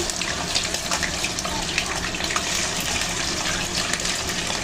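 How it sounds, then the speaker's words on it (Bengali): Two kilograms of chicken pieces dropped into hot oil, giving a steady, dense hiss and crackle that runs unbroken and fairly loud throughout, with no one speaking. "এবার আমি তেল গরম হয়ে গেছে, চিকেনগুলো ছাড়বো"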